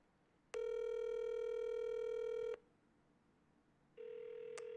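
A telephone tone sounds clearly for about two seconds, then stops, and a second, fainter tone begins near the end, as a call is placed to leave a voicemail.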